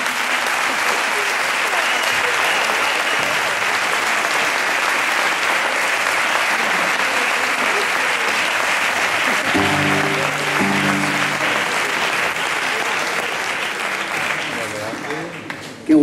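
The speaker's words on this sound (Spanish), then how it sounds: "un fuerte aplauso para ellos" A long, steady round of applause for the children at a farewell concert, many hands clapping continuously from a crowd, with a brief tonal musical or voice sound appearing near the middle.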